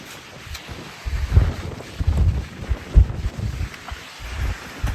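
Strong wind on a hike near the Old Baseline fire lookout in Clearwater County, Alberta, buffeting the microphone in uneven low rumbling gusts that rise and fall for several seconds.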